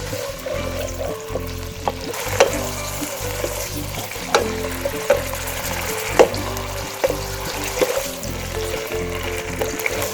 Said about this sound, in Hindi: चिकन को भी आपने कुक करना है हाई फ्लेम पे।